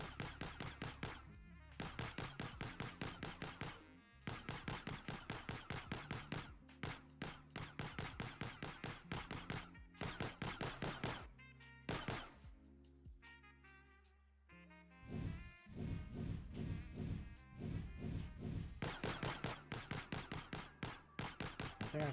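Rapid gunfire bursts from an Unreal Engine 5 top-down shooter video game, loud and close, with rhythmic volleys of shots broken by short pauses and a denser run of firing near the end.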